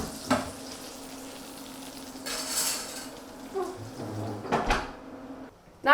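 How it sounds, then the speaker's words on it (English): Mushrooms caramelising in a hot pan for a mushroom bourguignon, a quiet steady sizzle running throughout, broken by a few clinks and scrapes of utensils against the pan and a louder clatter near the end. "just caramelise them on the top here, just until they're nice and brown on the outside"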